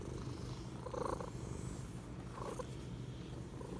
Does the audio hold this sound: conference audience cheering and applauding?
no